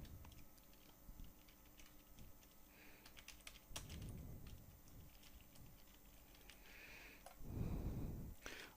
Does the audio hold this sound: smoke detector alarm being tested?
no